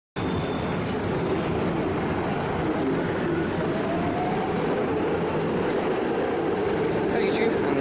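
A Stadler Flirt train at Budapest Keleti station, a loud continuous rumble and roll of the train moving through the station, with faint squeals and a voice talking underneath.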